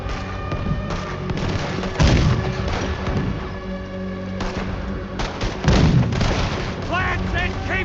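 Cannon fire from a naval battle in the video game Red Dead Redemption 2: deep booms, two of them heavier, strike over a dense rumble of combat noise, with voices shouting in between.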